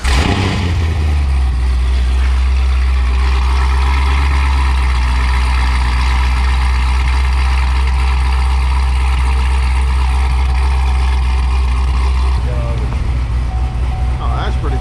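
Chevrolet Corvette with a 400 cubic inch LSR engine running steadily and loud and close, a deep rumble held for the whole stretch with a slight shift near the end.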